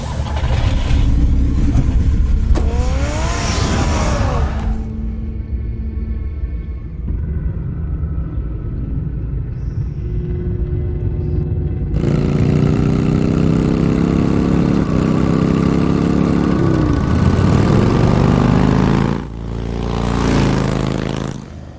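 A car engine in the Batman Telltale Series video game rumbles and revs, idling low in the middle stretch before surging louder with rising pitch sweeps, mixed with a game soundtrack.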